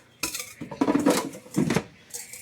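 Food set skin side down into an air fryer basket, heard as a few close clattering, scraping knocks of metal and food against the basket with short pauses between them.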